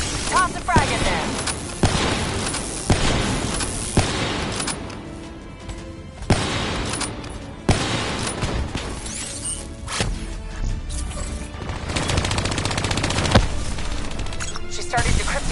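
Heavy Call of Duty combat with rapid bursts of gunfire, repeated sharp blasts and explosions, and shattering impacts, loud and continuous, mixed with shouted voices giving orders.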